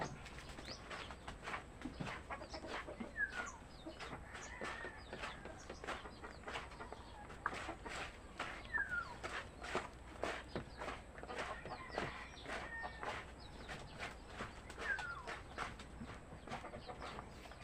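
Backyard chickens in a free-range area cluck and chatter in a steady, busy stream, fairly faint, with a low background hum.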